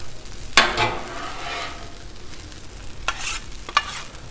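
Beef fried rice being pushed and stirred across a hot Blackstone griddle, a steady low sizzle with a few sharp scraping strokes of the spatula near the start and end.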